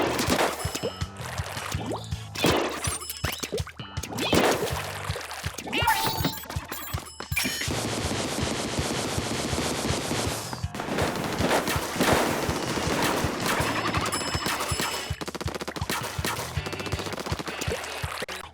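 Rapid bursts of Hero Dualies Replica fire in Splatoon 2, a reskin of the Splat Dualies, spraying ink in dense repeated volleys over game sound effects, with no talking.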